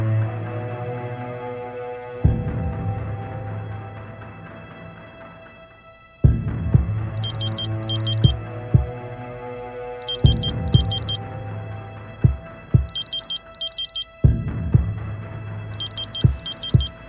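A telephone ringing during a call in a TV drama scene, four repeated high double-rings over low background music and occasional soft thumps.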